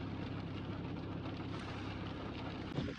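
Rain falls as a steady, dense hiss in the Adi Kailash mountain area, close and constant throughout with a faint bump near the end and no voices.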